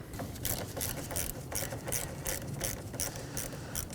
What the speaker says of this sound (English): Loosen the terminal with a 10mm socket.